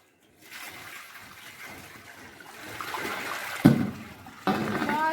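Running water pours steadily while a school uniform is washed by hand at home, building slightly louder, with a sudden splash and a brief knock near the end; no talking is heard.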